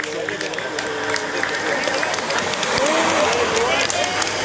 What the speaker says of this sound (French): encourager le public à applaudir très très chaleureusement le peloton